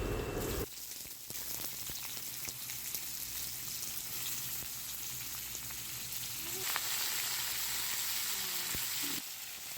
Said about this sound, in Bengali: তেল ভালো করে গরম হয়ে গেছে এবার লম্বা লম্বা করে কেটে রাখা আলু আর পটলের টুকরোগুলো এর মধ্যে দিয়ে দেয়া হবে